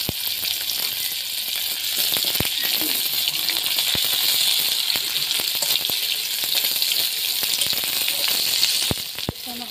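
Onion and garlic frying in a pan give a loud, steady sizzle that runs unbroken throughout, punctuated by a few sharp clicks and taps of a utensil against the pan.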